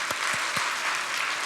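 A congregation applauds training graduates at a church completion ceremony. A few loud, separate claps open it, then dense, sustained clapping fills the hall at close range.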